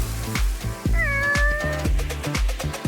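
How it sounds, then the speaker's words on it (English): Several cats meow close by in quick succession, short descending mews with one longer, higher cry in the middle, with no talking over them. "Come on, kitties, have a bite."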